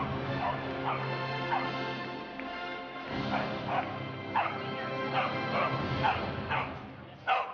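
Small dogs bark and yip repeatedly at the Crufts 2013 agility championship arena, sharp bursts amid crowd hubbub, with some whimpering between barks.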